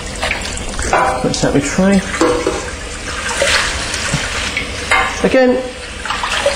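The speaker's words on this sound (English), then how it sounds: "just rinse it off" Tap water runs and splashes as a fish is rinsed off in a kitchen sink, with someone speaking briefly over the steady rush of water.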